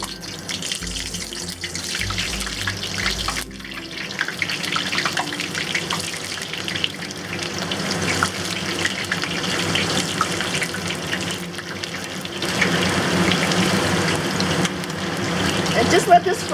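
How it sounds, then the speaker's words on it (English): Eggplant frying in hot oil in a wok, a continuous bubbling hiss that swells louder toward the end, with a voice talking over it now and then. "And just let this fry for like a couple minutes."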